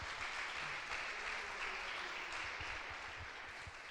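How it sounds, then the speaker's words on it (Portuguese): Congregation at a church conference applauding, a dense steady wash of many hands clapping together, sustained and even for the whole stretch. "as palmas para o Senhor"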